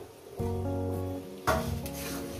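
Spice paste frying in a pan with tomato just added for a Bengali chicken kosha, giving a steady close sizzle that swells with a brief stir partway through.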